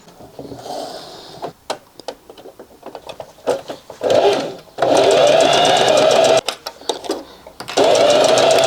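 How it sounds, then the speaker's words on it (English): A sewing machine whirs in bursts, starting and stopping as it stitches ripstop fabric, with clicks and handling noises between runs, close by. "back on the sewing machine"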